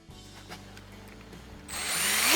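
A sharp bit in a power drill starts cutting into the strong spot welds on a nicad battery pack, quiet rustling at first and then a loud rising whine that builds toward the end.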